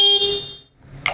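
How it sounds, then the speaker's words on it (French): A forklift's short, high electronic warning beep sounds and fades, followed by a brief second chirp. "Je vérifie le fonctionnement de l'avertisseur sonore"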